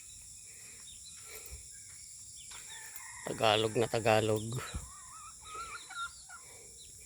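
A hen gives a short run of clucks and squawks close by, against a steady drone of insects, with a person speaking briefly afterward.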